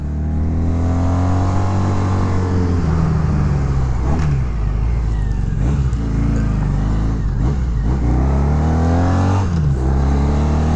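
A 1987 Honda Super Magna VF700 motorcycle climbing steep hills, its engine droning loud and continuous with rising and falling revs through gear changes, heard close with wind rumble and no talk.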